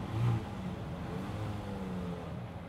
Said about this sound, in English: He saw me start recording, so he started revving his engine.